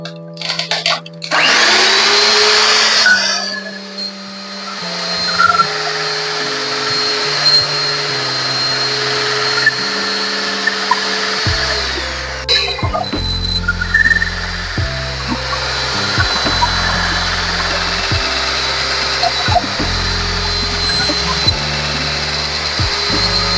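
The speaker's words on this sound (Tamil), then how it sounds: "இப்போ பட்டரை நல்லா பீட் பண்ணும்" An electric mixer beats butter and sugar for a moist Christmas plum cake, its motor whine loud and steady and stepping through shifting pitches as the speed and load change, with no talking.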